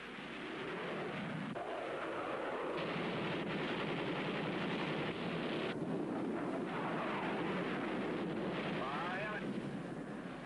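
A long burst of .50 caliber machine gun fire from a Korean War fighter plane crackles amid dense, roaring noise, with a voice talking over the continuous loud rattle.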